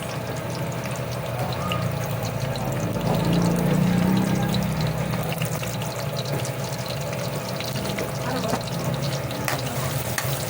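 Garlic fries and browns in a pan for a pork dish, a continuous dense sizzle with soft stirring and faint watery bubbling underneath, close and steady throughout.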